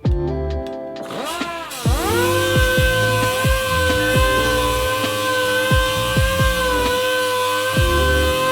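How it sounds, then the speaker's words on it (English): Epoxy filler on a wheel of an STI-swapped Subaru is ground smooth with a power tool, giving a high, steady whine broken by repeated short bursts as the tool is pressed and released, loud and close. "Cut a little chunk off, knead it together, jam it on the wheel, let it set, grind it smooth, and you're done."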